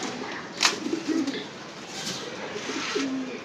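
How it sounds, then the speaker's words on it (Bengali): Pigeon cooing, a low soft call that swells and fades a few times in a pigeon loft, heard close over a steady background hiss with a brief sharp knock early on. "এটা নট কবুতরটা"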